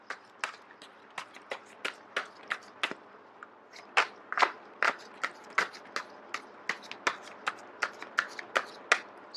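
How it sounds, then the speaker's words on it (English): A deck of tarot cards being shuffled by hand, a quick series of crisp, close riffling snaps and flutters arriving in an irregular rhythm, growing denser and louder in the second half. "I am going to shuffle until the first card drops out"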